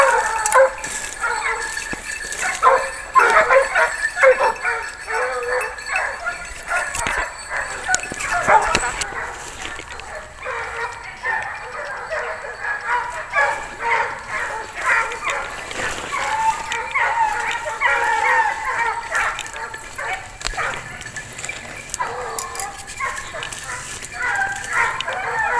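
Hunting dogs, including Fauves and Anglo hounds, baying and yelping repeatedly while chasing a wild boar, heard at middle distance with people talking over the pack.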